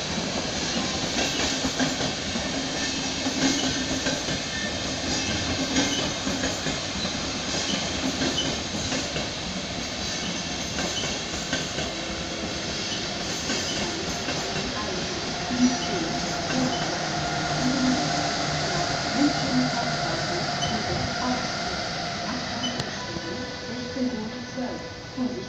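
An intercity train pushed by a class 101 locomotive rumbles and clatters into a platform at a Bavarian main station, steady and fairly loud, with echoing station ambience and faint squeals.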